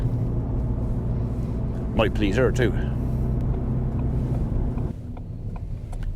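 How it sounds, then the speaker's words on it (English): A farm tractor engine drones steadily and loudly throughout, with wind buffeting, while a person speaks briefly over it near the middle. "you get a bit of tractor action"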